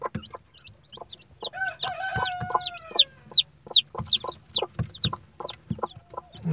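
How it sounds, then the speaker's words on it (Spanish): Chickens around newly hatched chicks, a series of close, sharp clucks and short squawks in an uneven rhythm, with soft low calls early on and a quiet background. "Mira, hay un pollito recién nacido."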